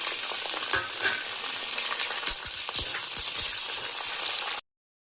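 Green chillies and onions sizzle in hot tempering oil for tomato rasam, a dense, steady crackling fry with occasional stirring clicks, close and loud before cutting off abruptly.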